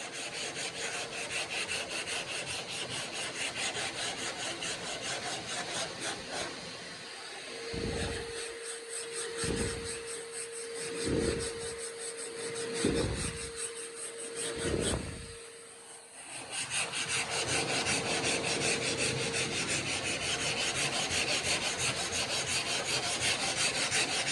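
A sanding block rasps steadily over high build primer on the body of a 1967 Firebird, a continuous close gritty scrub with a run of rhythmic strokes midway and no talking.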